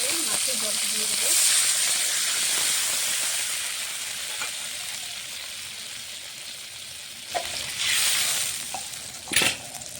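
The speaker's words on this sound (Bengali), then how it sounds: "এখন তেলে মাছের জল দিয়ে দেবো।" Fish broth poured into hot oil in a pan while cooking rui fish curry with poppy seed and mustard, giving a steady bright sizzle and hiss of frying, with a few louder bursts of spattering near the end.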